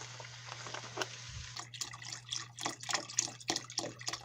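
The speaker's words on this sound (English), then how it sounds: "Once your meat is browned all the way through, then we add our beef broth." Beef broth poured into a pan of browned ground meat for shepherd's pie, a close liquid splashing and trickling with scattered drips and light clinks, steady over a low background hum with no talk.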